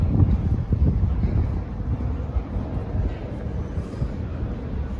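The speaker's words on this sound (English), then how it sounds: "It's quite windy today." Wind buffets the microphone in a continuous low rumble that surges and eases, with no voices present.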